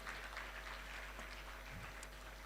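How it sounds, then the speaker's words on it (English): Audience applause at a high school graduation ceremony in Kampala, a steady, moderately faint wash of many hands clapping that holds evenly for the whole stretch with no voices over it. "Ladies and gentlemen, can we please get another round of applause?"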